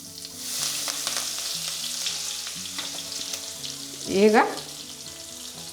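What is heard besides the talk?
curry leaves and cumin frying in oil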